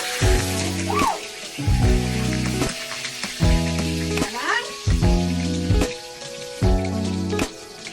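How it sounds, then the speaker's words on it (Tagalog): Oil sizzles and spits in a hot pan on the stove while simple home-style bihon is being cooked, a close, steady frying crackle broken by a few louder bursts of stirring or added ingredients. "kakainit na po tayo ng mantika sa kawali para po sa una natin pagbibisa para po sa pagluluto ng bihon"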